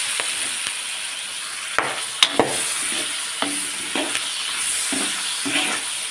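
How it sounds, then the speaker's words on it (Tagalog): Garlic, onion and tomato frying with pork in a pan for Filipino pakbet, a steady close sizzle punctuated by several sharp clacks and scrapes of a utensil stirring against the pan. "ilagay na natin ang ating bawang, sibuyas, kamatis. Yan, kumakalsip na guys."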